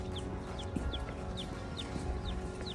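Bantam, bluebell and sapphire gem chickens, a small group of birds, give short high calls repeated about every half second over a steady low background hum.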